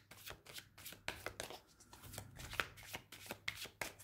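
Tarot cards being shuffled quickly, a string of crisp riffles and slaps in an uneven rhythm, close and fairly quiet with no voice.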